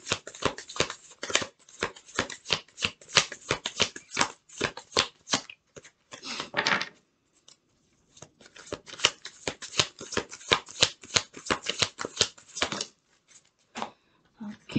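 Tarot cards shuffled by hand in rapid, crisp riffling bursts, close and fairly loud, with a brief pause and rustle midway before the shuffling resumes, alone without talk.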